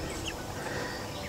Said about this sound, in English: why we have red and white chickens.